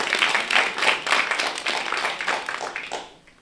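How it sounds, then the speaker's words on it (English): An audience at a spiritual living center gathering gives a short burst of clapping, the separate claps loud and near and rhythmic at first, then thinning and fading toward the end. "So let's give an applause for all of them."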